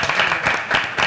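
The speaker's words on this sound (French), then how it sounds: "On peut l'applaudir encore." A brief burst of audience applause on a French TV show set, dense clapping from a small crowd in quick pulses, loud and close.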